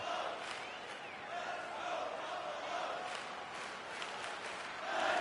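A hockey arena crowd during a tied NHL game between Buffalo and Calgary, a steady, distant roar of cheering and rumbling voices that stays fairly quiet and even throughout, swelling slightly near the end.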